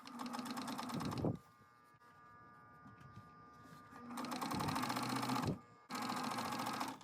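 A Kenmore 385 sewing machine stitches a rolled fabric hem in two quick bursts of rapid needle clatter, with a quieter pause between them and no talking.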